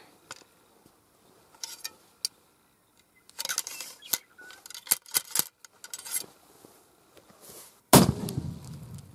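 A muzzleloader fires a 240-grain powder overload behind a 750-grain bullet, one sharp, loud blast that decays quickly, preceded by faint clicks and handling noises.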